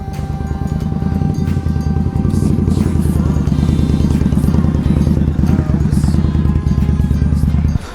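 A Honda CBR600F4i or Indian Scout 1200 motorcycle engine idling nearby, a loud, steady rhythmic chugging with a faint clatter running for several seconds before dropping off at the end.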